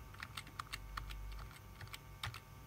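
Quick, faint keystrokes tap on a computer keyboard, an irregular run of clicks with a few short pauses and no voices.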